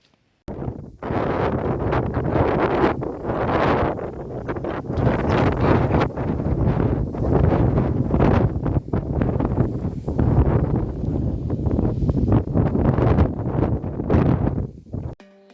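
Strong, steady wind on a misty hilltop in Idukki district roars and buffets the microphone for the whole stretch, loud and continuous with no voices.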